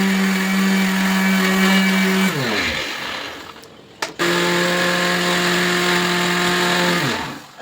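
A mixer grinder whirs loudly, grinding garlic, green chillies, ginger and cardamom into a paste, running in two steady bursts with a brief spin-down and restart in the middle before winding down at the end.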